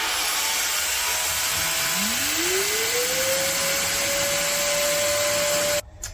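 A Lamello Clamex S-20 joiner motor spins up with a rising whine and holds a steady high hum, the Lamello joiner running continuously to cut slots in wood, loud and close, then cuts off abruptly near the end.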